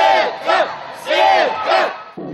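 Volleyball fans in an indoor sports arena chanting in unison, loud rhythmic crowd shouts repeating in four pulses, backed by general cheering.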